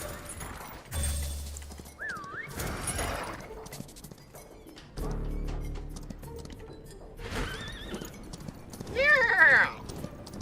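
Hoofbeats clop in bursts inside a video game, with a horse's whinny rising near the end amid other game sounds and effects, while a player talks over the action.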